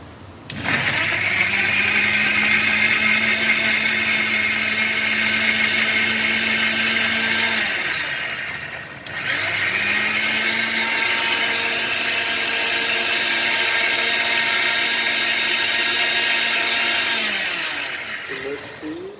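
A kitchen mixer grinder blends garlic cloves into paste, a loud high whine running in two long bursts with a brief pause between them, the motor winding down at the end of each run.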